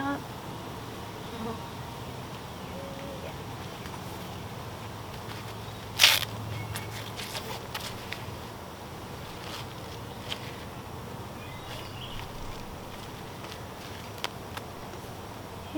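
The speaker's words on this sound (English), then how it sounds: "Lots of bees down here in the bottom box." Bees inside the bottom box of a beehive make a steady, dense hum throughout, with brief close knocks and clicks from handling the hive and no voices.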